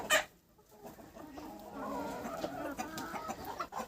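Chickens, including Australorps, cluck softly while pecking at small shells outdoors, with a brief sharp sound at the start and then low, uneven murmuring clucks nearby.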